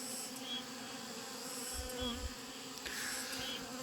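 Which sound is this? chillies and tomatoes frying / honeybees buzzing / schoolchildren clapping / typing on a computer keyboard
honeybees buzzing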